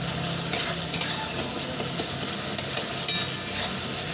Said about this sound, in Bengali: প্রায় আমার মশলা কষানো হয়ে গেছে আর দু মিনিট কষালেই আমার হয়ে যাবে